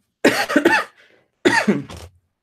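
Two bursts of harsh, rough coughing close to the microphone, each a short cluster of coughs separated by a brief pause.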